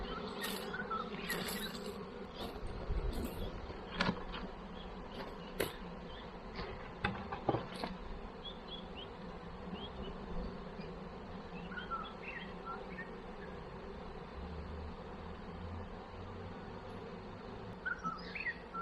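A bee swarm at a home in Bendigo hums in a low, continuous drone, with individual bees buzzing close by in brief passes and faint bird chirps in the background.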